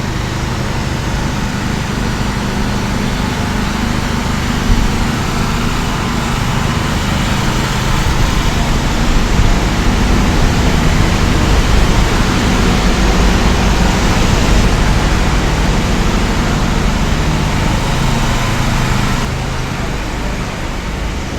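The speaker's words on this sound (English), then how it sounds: "This is the sound of generator." A generator runs on a Yangon street during a power outage, a steady, loud, broadband engine drone that holds unbroken for about twenty seconds amid the surrounding street noise, with no talking.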